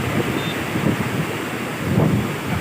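Roaring Mahanadi floodwater makes a dense, continuous rushing roar with gusty wind buffeting the microphone, loud and steady, with no voices.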